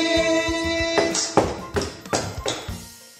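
Several thumping foot taps land at a steady pace, close and moderately loud, over faint background music that fades out.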